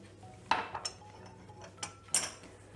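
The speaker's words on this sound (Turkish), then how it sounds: "Şöyle bir karıştırıyorum." A spoon clinks and scrapes against a pot while flour, starch and sugar are stirred together, a few sharp metallic knocks spaced irregularly over a quiet background.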